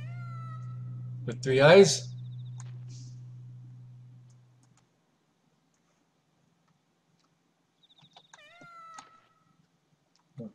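A cat in the Eizoku video game gives one short, close meow. A brief voice follows, then near silence broken by a few faint game clicks.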